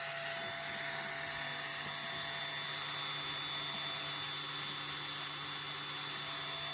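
Dremel rotary tool grinding slowly on a Corgi Toys Bedford car transporter model, a steady high-pitched whine that holds constant and unbroken throughout, with no talking.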